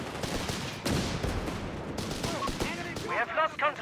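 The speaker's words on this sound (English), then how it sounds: "And then got artillery fire there." Artillery and gunfire rumble through a Company of Heroes 3 battle between Afrika Korps and British forces, with dense overlapping blasts and crackling shots, a few louder bursts standing out, and game voices calling out near the end.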